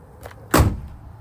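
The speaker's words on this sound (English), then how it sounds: "Doors shut nice." A 1966 Ford Mustang with a 289 V8 has its door shut once, a single solid thud close by, with a faint softer bump just before it and quiet afterwards.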